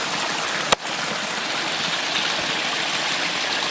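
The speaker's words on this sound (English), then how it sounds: "Pit stop here at a little mini waterfall here." A small trickling waterfall on the Jenkinson Lake loop trail splashes steadily and evenly throughout, close and fairly loud, with one brief sharp knock near the start.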